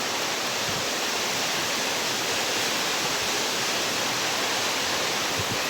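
Heavy rain pounds a tin roof, a dense, steady roar that stays loud and close from start to finish, with no voices.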